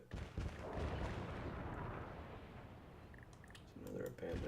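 Abandoned building collapsing during demolition in SimCity 5, a sustained rumbling crash of falling debris that swells back up near the end, with a voice talking over it.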